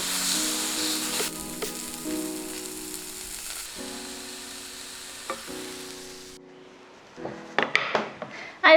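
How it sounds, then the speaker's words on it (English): Beefsteak sizzling in hot oil on a gas grill makes a loud steady crackle with scraping and utensil knocks, then the sizzle stops and a few sharp clatters follow. "And once the oil is hot, I'm going to bring in the beefsteak."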